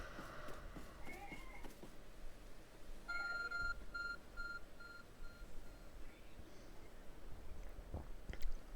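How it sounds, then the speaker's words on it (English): Steady repeated electronic beeps from a glowing object in Pokémon Legends: Arceus, a run of evenly spaced tones over soft game ambience and faint rustling. "There's a glowing beeping object over there."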